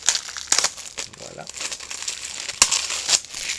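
Crinkling plastic wrap being peeled off a Clifford the Big Red Dog DVD case, with crackly bursts and a sharp tear near the end, close by; a voice speaks briefly at the end.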